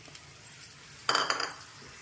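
A spoon scrapes and clinks in a pan while cooked chana dal and tamarind leaves are stirred together, a few soft taps and then a brighter burst of metallic scraping, close by.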